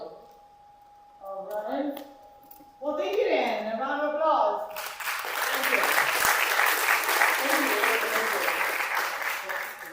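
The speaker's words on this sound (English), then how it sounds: "A round of applause." Talking gives way to a conference audience bursting into sustained applause, a dense wash of clapping that continues steadily to the end.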